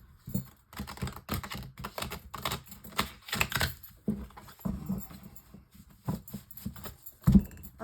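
Tarot cards for a nine-card reading are shuffled and laid out, giving a run of soft, quick papery riffles and taps with brief pauses, close and fairly quiet, with no talking.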